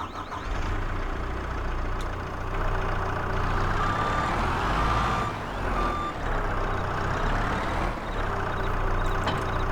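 A skid steer reverses in the video game Farming Simulator 22, with its reversing beeper sounding over a steady, continuous engine drone that stays at an even level throughout.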